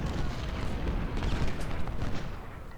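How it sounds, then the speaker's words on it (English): Massed cannon artillery fire in the Civil War strategy game Ultimate General, at the Battle of Fredericksburg: a continuous low rumble of overlapping booms with no clear gaps and no talk. "Lots of cannon."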